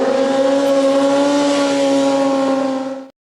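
A motorcycle being ridden up to about 35 miles an hour for a wheelie, its engine giving a loud, steady high drone for about three seconds before cutting off abruptly.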